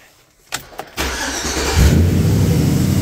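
A car engine cranks in a few short bursts, then catches and settles into a steady running rumble that grows slightly louder, close by with no talk.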